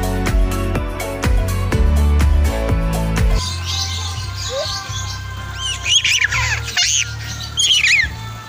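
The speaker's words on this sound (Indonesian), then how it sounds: "Nah ini dia suasana pencampuran antara kelinci, burung, dan ayam kalkun." Birds and turkeys squawk and chirp together in a rabbit park, a burst of loud calls over a low droning hum at first, then scattered shrill chirps and tweets carrying on to the end.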